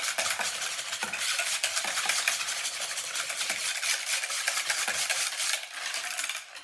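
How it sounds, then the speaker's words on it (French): A spoon stirs sugar in a pot for chocolate cream, making continuous close scraping and gritty swishing with small metallic clicks. "Je touille un peu."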